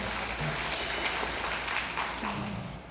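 A concert crowd at a festival set claps steadily, a dense wash of applause that holds throughout and tapers slightly at the end, with faint voices and low stage hum underneath.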